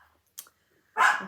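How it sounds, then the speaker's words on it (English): A dog gives a short sharp bark nearby, after a brief click, in an otherwise quiet indoor room. "sorry about my dog."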